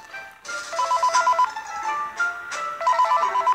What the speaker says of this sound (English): I will pick up the phone!